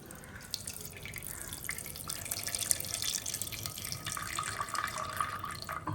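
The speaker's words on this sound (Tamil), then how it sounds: "என்ன பண்ணணும், கொஞ்சம் தண்ணிலாம் வடிகட்டிக்கணும்" Water strains off cooked greens in a home kitchen, a steady, close splashing, trickling stream that runs without pause and with no voices.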